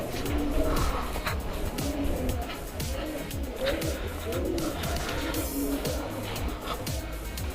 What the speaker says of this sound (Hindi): कबूतर बहुत हैं इस फोर्ट में